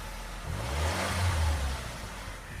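A car pulls away with a low engine rumble that swells as it accelerates and then fades, a single smooth pass heard fairly close and without talk.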